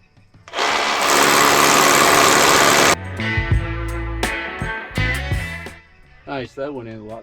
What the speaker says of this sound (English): drill a couple holes into this and make sure that we get some rebar into it